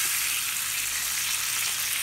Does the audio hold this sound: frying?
yes